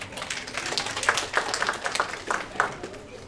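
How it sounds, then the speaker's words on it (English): Audience applause at a university homecoming empowerment panel discussion, a moderate burst of clapping from a seated crowd lasting a few seconds with no talk over it. "Give a hand clap for"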